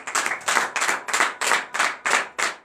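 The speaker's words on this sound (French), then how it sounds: "Donnez l'acclamation" Church congregation at a morning prayer service claps in acclamation, sharp unison handclaps in an even rhythm, about three per second, loud and close with no talking.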